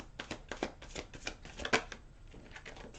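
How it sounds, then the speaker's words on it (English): A deck of slippery playing cards is shuffled by hand in a quick series of crisp riffling flutters and taps, close and fairly quiet, with no voices. "I got one more shuffle to go here for you"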